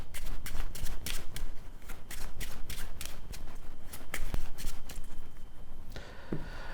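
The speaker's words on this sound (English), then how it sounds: "can you shuffle those cards" A deck of cards being riffled and shuffled repeatedly, crisp rapid fluttering bursts close up, with a brief pause and a softer shuffle near the end.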